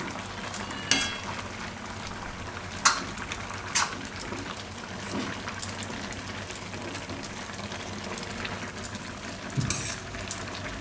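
Leafy greens stirred by hand in a cooking pot for a Gujarati varadiyu vegetable dish, with a few scraping clinks of the spoon against the pot over a steady low kitchen background.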